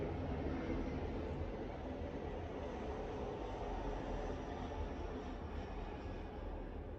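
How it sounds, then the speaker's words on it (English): Airplane passing overhead outdoors, a steady broad roaring rumble that fills the whole stretch, continuous and fairly loud without speech over it. "sorry, there's a plane."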